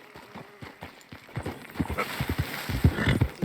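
Horse hooves clop along a trail in Red Dead Redemption 2, a quiet uneven patter at first that grows into a louder, quicker rhythm of close hoofbeats.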